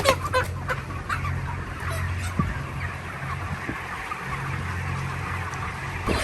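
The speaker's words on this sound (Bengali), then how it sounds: "বিশেষ করে ফার্মে উৎপাদিত পোলট্রি মুরগি আমাদের দৈনন্দিন প্রোটিনের অন্যতম উৎস" Poultry chickens on a farm in Malaysia cluck and chatter in a steady flock murmur, with a few sharper calls standing out near the start.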